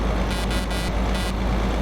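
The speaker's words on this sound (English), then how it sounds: "Let's hear what the horn sounds like." A heavy truck horn in a truck simulator video game sounds in several short blasts over a constant, loud engine drone.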